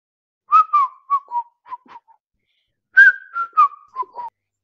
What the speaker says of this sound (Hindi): तेनाली जंगल में टहल रहा था, गा रहा था और सीटी बजा रहा था।